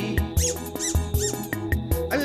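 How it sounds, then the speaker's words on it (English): A golden retriever's squeaky toy squeaks repeatedly in quick, uneven bursts, loud and close, with the toy being chewed or squeezed outdoors on grass; a song plays along underneath. "love that squeaky sound."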